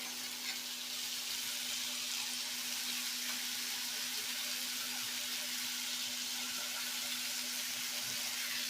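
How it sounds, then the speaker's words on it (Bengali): Chicken and cut potato frying together in a pan while being stirred, a steady close sizzle with faint scraping, accompanied by a constant low hum. "আলুটা দেওয়ার পরে আবারও নাড়াচাড়া করে কষিয়ে নেব। আলুটাও যেন চিকেনের সঙ্গে ভাজা হয়ে যায়।"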